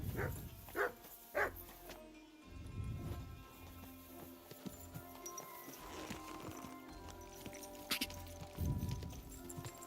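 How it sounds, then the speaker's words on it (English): Barks from a dog in the medieval game Kingdom Come Deliverance 2, several short sharp bursts spaced irregularly over a busy game ambience with hoof-like clatter, fairly distant and moderate in level. "You silly doggy."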